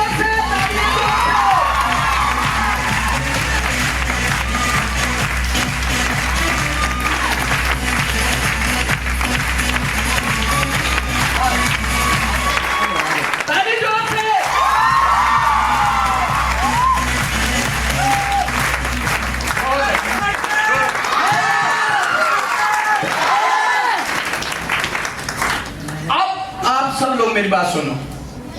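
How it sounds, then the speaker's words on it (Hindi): A large crowd of young attendees at a motivational talk in Ambikapur claps loudly and cheers for nearly half a minute, with whoops, shouts and a voice over a loudspeaker running beneath the applause. "तालियां जोर से, तालियां जोर से।"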